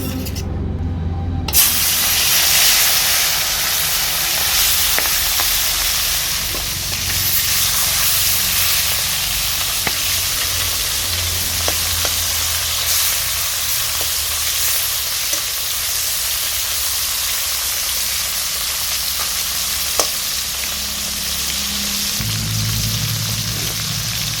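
Chapila fish fry in hot mustard oil in a kadai, a loud, continuous close-up sizzle and hiss with scattered pops and occasional stirring clinks over about twenty seconds.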